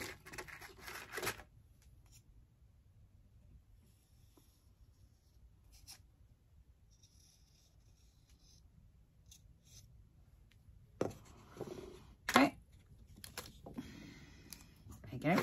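Scissors cut material off a DIY birdhouse built from a doom pile of odds and ends, giving scattered close snips and scraping, quiet stretches in between and a louder cluster of cuts toward the end.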